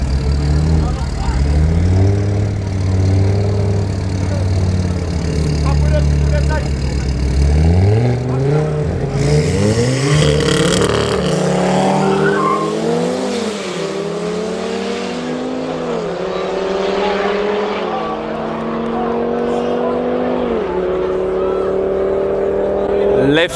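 At a night street drag race in Johannesburg, a Golf 7R and an Audi RS3 launch hard, engines revving loud and rising through gear changes, with a commentator talking over the continuous roar.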